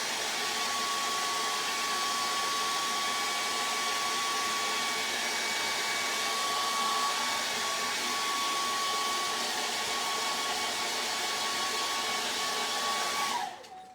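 A hair dryer blows on an acrylic portrait painting to dry the paint, a steady loud whooshing roar with a faint high whine that runs unbroken for about thirteen seconds before switching off.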